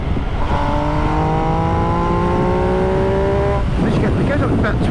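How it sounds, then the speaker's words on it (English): An MV Agusta Dragster RR motorcycle engine revs up loudly with a rising whine through several gears, then drops back to a rough, burbling idle. "This bike sounds pretty damn good."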